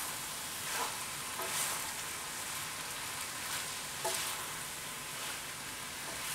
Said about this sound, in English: And so we mix it in, get that all nice and mixed.